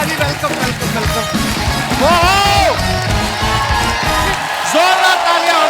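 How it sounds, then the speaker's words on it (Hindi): Loud cheering, whoops and shouts from a studio audience at a comedy talk show as wrestler The Great Khali arrives to celebrate his birthday, a dense continuous crowd roar with raised voices, clapping not clearly separate. "जोरदार तालियां हो रहे, वाह।"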